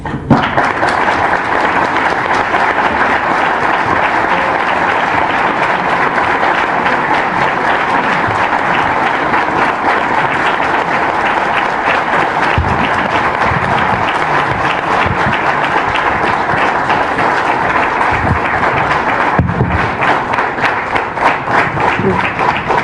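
A forum audience applauds, loud sustained clapping from a large crowd that fills the whole stretch without pause.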